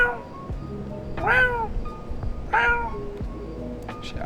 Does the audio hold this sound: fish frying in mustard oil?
no